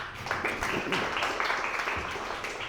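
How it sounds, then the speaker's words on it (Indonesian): A church retreat crowd applauds the event organizing committee with a burst of steady clapping that mixes with a voice speaking over it. "Tepuk tangan dulu panitia dulu"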